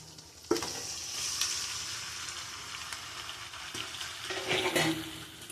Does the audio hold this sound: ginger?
yes